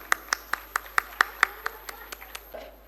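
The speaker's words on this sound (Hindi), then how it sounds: "जोरदार तालियों से उनका स्वागत।" At a grand ceremony, an audience greets a guest with sparse, distinct handclaps in a loose rhythm. The claps are close and fairly loud, then thin out and fade toward the end.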